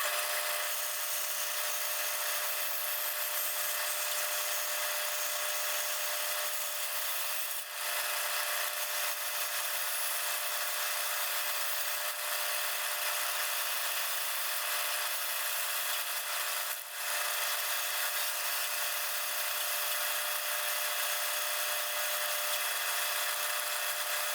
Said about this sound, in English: we can go take this to the bandsaw and get this cut out